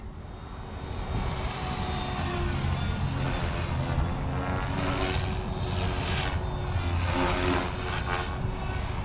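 A small RC helicopter, an OMP Hobby M4 or Goosky RS4 Venom, flies nearby, its rotor and motor whine steady and loud, with pitch shifting slightly as it maneuvers.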